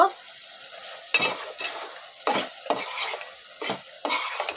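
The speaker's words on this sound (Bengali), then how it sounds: "ঢাকনাটা তুলে এবার নাড়া দিয়ে দিব" Pangas fish curry with potatoes being stirred in a pan: soft continuous sizzle broken by about six distinct scraping spatula strokes, close and moderately loud, with no voices.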